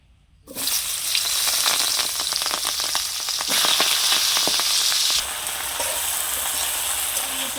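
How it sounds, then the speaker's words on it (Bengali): Chopped Malabar spinach and vegetables drop into hot oil with a sudden loud burst of sizzling that stays strong and steady, crackling and hissing close by after a short silent start. "এবার আমি পুঁই শাক কেটে রাখা আনাজগুলো তেলে দিয়ে দেব।"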